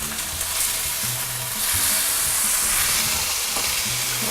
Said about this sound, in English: I'm just getting them seared.